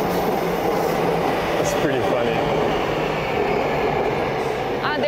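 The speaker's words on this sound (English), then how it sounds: "the metro needs to go over the river, so that's why it's now going above." A Seoul metro train runs on a bridge above the river with a steady loud rumble, a rolling hum and faint clatter inside the carriage, while a person speaks over the noise.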